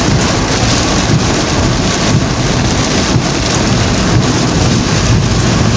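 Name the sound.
heavy rainstorm with strong wind in Aparri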